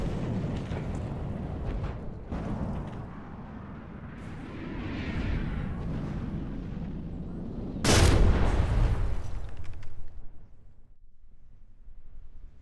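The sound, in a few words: weapons firing in From the Depths video game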